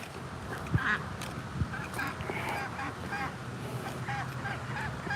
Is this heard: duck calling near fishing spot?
yes